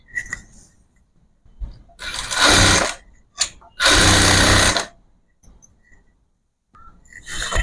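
Sewing machine running in two long bursts of rapid stitching through saree fabric for a child's garment, with shorter starts and stops between and a faint voice underneath.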